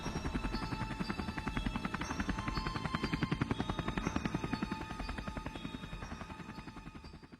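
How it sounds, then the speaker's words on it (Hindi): A helicopter's rotor thumps in a fast, steady rhythm with a droning engine whine, loud and close throughout. "बाबा हेलीकॉप्टर को धीरे धीरे नीचे लेते हैं।"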